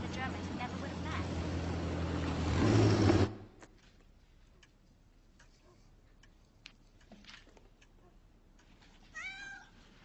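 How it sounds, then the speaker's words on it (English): A pregnant cat gives a short meow near the end, after a loud stretch of other sound fades into quiet room ambience with faint ticking. "This is Moji. She's going to have kittens soon"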